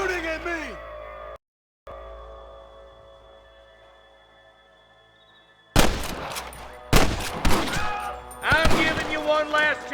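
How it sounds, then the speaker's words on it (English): Western gunfight in Red Dead Redemption: after a quiet stretch with a brief shout, loud rapid gunshots break out in clustered volleys, mixed with yelling voices and chaotic in-game sound. "Stop shooting at me!"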